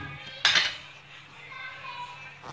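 A metal sieve clanks sharply once against a pot while milk curds (chenna) are strained for Bengali rasgulla, followed by a faint scrape and quiet kitchen background.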